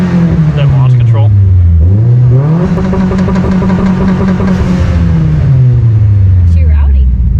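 A Mitsubishi Lancer Evo X engine revving hard while running rough with a suspected boost control fault, rising and falling in long loud pulls close to the microphone, with people talking over it.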